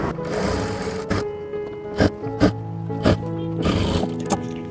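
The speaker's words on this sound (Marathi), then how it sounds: "डबल शिलाईने आपण तो शिवून घेऊया आता याही साईडचे जे आकार आपण शिवून घेऊया" A sewing machine double-stitches the seams of palazzo pants, running in short close bursts separated by sharp clicks and pauses, with its motor hum carrying through.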